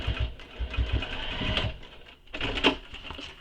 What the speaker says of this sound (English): we're going to top stitch this using the seam allowance given in the pattern